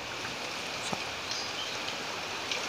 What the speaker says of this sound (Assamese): বাহিৰত এনেকুৱা ধুমুহা দি আছে